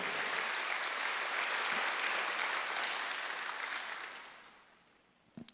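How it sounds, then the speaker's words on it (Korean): Congregation at a Sunday church service applauding together, a dense sustained wash of clapping that holds for about four seconds, then fades away, with a couple of sharp sounds at the very end. "박수하셨어요."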